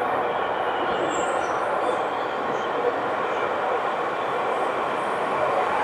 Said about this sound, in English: So now we're in the subway waiting for the next train.